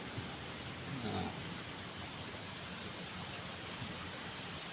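Rain falls without letup in a steady, close, even hiss, with a brief faint murmur in the background near the start.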